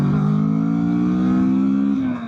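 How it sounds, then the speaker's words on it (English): Kawasaki Vulcan S cruiser engine held at a steady rev during a rev match, a loud, close, continuous drone that eases off at the very end. "Looks like it takes a little bit more to get the throttle where you need it for rev matches on the Vulcan S"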